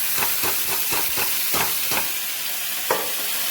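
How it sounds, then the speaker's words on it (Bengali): Pressure-boiled, drained bottle gourd fried with shrimp, onion and garlic makes a loud continuous sizzle, with rhythmic scraping strokes of a spatula stirring the pan, close up and without speech. "এটাকে ভালো করে এবার এর সাথে ভাজতে থাকবে"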